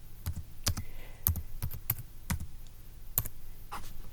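Typing on a computer keyboard nearby, a quick irregular run of distinct key clacks with short pauses, fairly quiet and with no talk.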